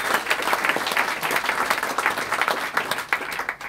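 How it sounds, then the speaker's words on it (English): A live crowd at a cryptocurrency Q&A event applauds itself, with a full, dense wash of clapping held at steady loudness before it thins slightly at the close. "So applaud yourselves."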